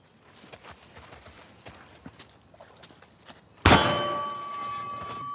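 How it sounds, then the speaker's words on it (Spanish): A bell in the video game Uncharted: The Lost Legacy gives one sudden loud strike and then rings on with a sustained metallic tone, after a run of soft hoof-like footsteps. "Sonó la campana y se quitó una de las barras."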